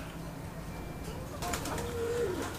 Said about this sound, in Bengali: এখানে এটা আমরা কি কবুতর দেখছি এটা কালো পাইক বিউটি